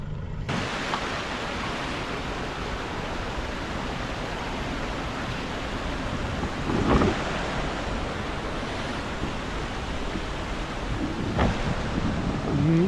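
Flood waters overflowing at Khlong Lan waterfall rush in a steady, dense roar that stays constant and fairly loud throughout, with a few brief louder swells and no voices.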